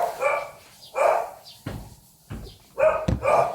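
Dogs bark indoors in reaction to noises outside, giving several loud, close barks in an uneven run of separate bursts with brief gaps between them.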